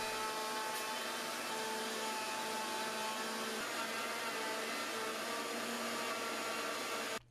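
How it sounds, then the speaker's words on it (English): Plunge router with a 45-degree chamfering bit easing the edge of hardwood edging on an assembly table top; a continuous, fairly quiet whining drone that runs unbroken for about seven seconds and then cuts off. "I routed a chamfer just using my plunge router and a 45 degree chamfering bit"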